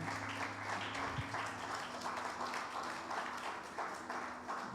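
A church congregation applauds for the Lord, a soft, steady patter of many hands clapping at a distance, with a low hum beneath.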